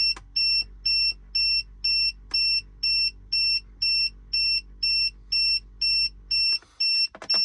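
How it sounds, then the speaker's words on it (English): A VESAFE wireless tire pressure monitoring system beeps repeatedly, about a dozen sharp, evenly spaced electronic pips close by, then a brief clatter of handling at the end. "Now if you're wondering about the beeping, you can see all the tire pressures are coming in."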